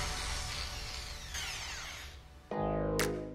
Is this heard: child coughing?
no